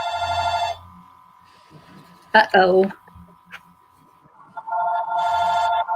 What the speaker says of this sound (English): That's our house phone.